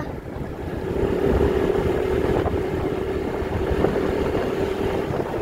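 A Yamaha Nouvo motorcycle engine idling steadily nearby, a low rumbling drone with a faint whine, holding even for several seconds without speech.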